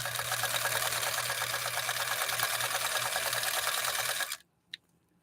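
A 1954 Husqvarna sewing machine stitches a straight seam down the material at a fast, even pace, loud and close, then cuts off abruptly with one brief click after.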